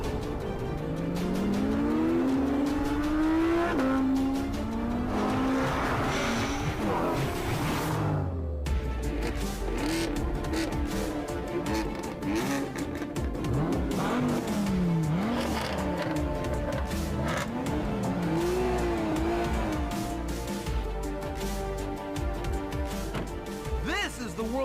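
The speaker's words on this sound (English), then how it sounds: "And here's the Teutonic stud, the Audi R8 V10 Plus." A McLaren 570S and an Audi R8 V10 Plus race from a standing start, with loud engines revving up through gear changes and a roaring, rising tone throughout, while someone talks over them.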